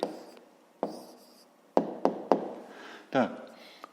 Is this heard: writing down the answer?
yes